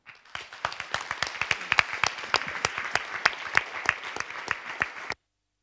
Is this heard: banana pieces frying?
no